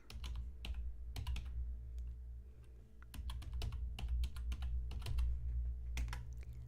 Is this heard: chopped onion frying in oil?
no